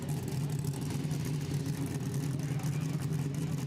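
Hatchback engine revving hard at a Quick Street drag event, a steady mid-pitched drone with continuous broad crowd and track noise, while people talk over it.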